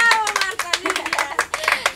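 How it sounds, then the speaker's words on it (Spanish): Several people clap by hand in a lively, uneven burst of claps, loud and close, alongside excited voices cheering. "un aplauso ¡bravo!"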